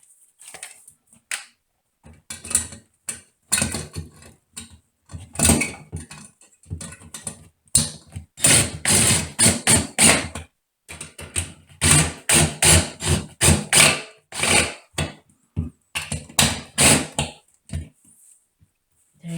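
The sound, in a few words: screws being driven in during bathroom fixture installation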